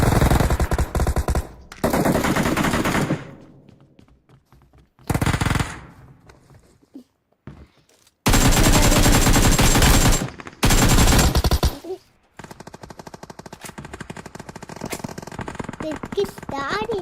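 Machine gun fire in a video game, loud sustained automatic bursts repeating in long stretches with short pauses between, while people talk over and between the shooting.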